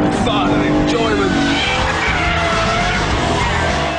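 A BMW M3 E92 driven hard, its engine roaring loudly and continuously at high revs with rising gear pulls, while someone talks over it throughout.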